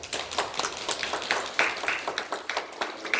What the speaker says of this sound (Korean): 오재영 장로님, 또 오기순 권사님이신데 잠시 일어나시면 우리 박수로 환영하죠